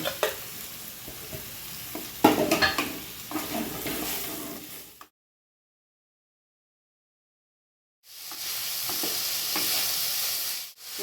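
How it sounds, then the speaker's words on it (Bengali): Chicken pieces fry in a pan with a busy sizzle and stirring scrapes, then drop into silence for a few seconds before a steady hiss resumes. "এবারে আগে থেকে কেটে রাখা চিকেনগুলো দিয়ে এবার ফ্রাই করব"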